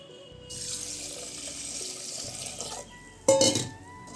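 Rice, mung dal and fenugreek seeds are rinsed under a running kitchen tap, with a steady splash of water into a vessel, a brief pause, then a louder burst of running water near the end.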